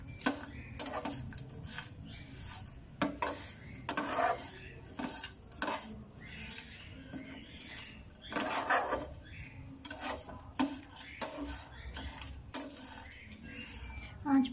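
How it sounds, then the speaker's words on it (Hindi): Coconut and spices are roasted over a low flame while a spoon stirs and scrapes them around a pan, a steady run of close scraping and clinking strokes beneath intermittent talk. "बस इनको हल्की आंच पे भूनना है तब तक जब तक नारियल की अच्छी सी खुशबू आना शुरू हो जाए"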